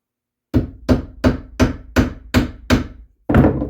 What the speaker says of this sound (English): And take the hammer.